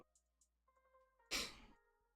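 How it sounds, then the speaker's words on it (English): A single sharp human sneeze bursts out close to the microphone after a few faint clicks and small breaths, then fades quickly into quiet. "I got sneeze."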